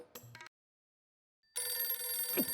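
A telephone rings indoors in a brief electronic burst, cuts to a second of silence, then resumes with a louder, sustained bright ring.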